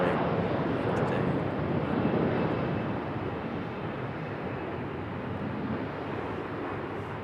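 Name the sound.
Embraer E-175 jet airliner departing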